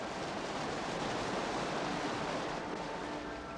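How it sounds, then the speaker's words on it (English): Glacier meltwater rushing in Glacier Bay, a loud, steady broadband roar with no breaks, close and unchanging throughout, no voices. "rushing water."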